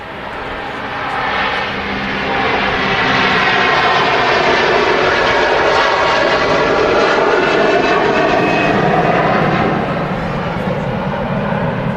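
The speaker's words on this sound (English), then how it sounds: "Great sound there from them Rolls-Royce engines." A Virgin Atlantic Airbus A330 with Rolls-Royce jet engines on its takeoff roll at Manchester Airport, a loud, swelling roar that builds over several seconds and holds steady, with a faint voice underneath.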